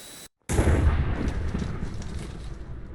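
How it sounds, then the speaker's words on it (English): An explosion in modded Minecraft bursts out loud and near after a brief dead silence, a heavy low blast that decays into a long rumbling tail. "Oh right, it summons an explosion."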